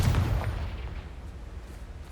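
A Confringo spell explosion in Hogwarts Legacy booms loudly at the start, then its rumble decays into a low fading tail over about two seconds.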